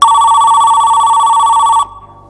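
A single loud, electronic telephone ring sounds in a quiet home, a steady bright tone lasting almost two seconds before cutting off abruptly.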